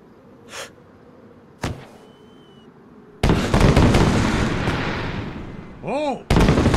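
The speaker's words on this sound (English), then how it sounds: "Fireworks." Fireworks burst in The Last BreakOut video game, starting with a few isolated cracks and then a loud, sustained barrage of booming explosions and crackle. Whistling rising tones follow near the end before another sharp burst.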